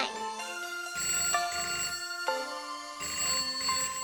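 A phone rings in the Mint's Hints video game, a repeating electronic telephone ring in steady bursts, loud and close, with no talking over it.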